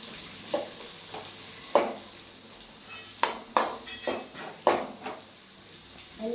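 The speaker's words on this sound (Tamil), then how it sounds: "நல்லா வதங்கணும் வெங்காயம்." Onions sauté in a pan, a quiet sizzle punctuated by distinct metal spatula scrapes and clinks against the pan every second or so, nearby with no speech.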